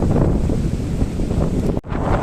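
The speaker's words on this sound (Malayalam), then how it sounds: "നല്ല കാറ്റ് നല്ല കാറ്റ് എന്ന് വെച്ചാൽ പറയാൻ പറ്റാത്ത അടിപൊളി കാറ്റ്" Strong wind roars over a rough sea during traditional small-boat fishing in wind and rain, a steady close buffeting rush that drops out briefly near the end before returning.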